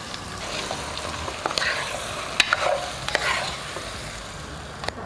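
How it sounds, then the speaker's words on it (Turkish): Tomatoes and peppers are stirred in a pot for canned borlotti beans, soft scraping and wet shuffling with a few sharp clicks of the spoon against the pot's side, close and fairly quiet. "Domatesten biberimizi koyduk, karıştırdık."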